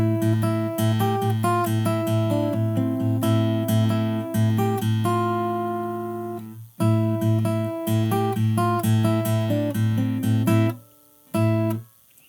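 Close acoustic guitar plays a fingerstyle passage from a song with an underhanded picking approach, repeated plucked bass and treble notes in a bouncy pattern, briefly stopping near the end before a final strum.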